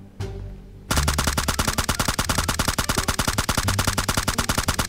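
An M16 rifle fires in PUBG Mobile, a rapid, steady stream of loud, evenly spaced shots that starts abruptly after a brief quiet lead-in and continues without a break.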